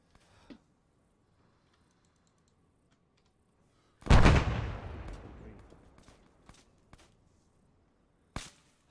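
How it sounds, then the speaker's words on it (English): A single loud gunshot in a video game cracks out and echoes away over a few seconds, with a sharper, shorter report a few seconds later and faint clicks before, amid near silence. "Firing overhead."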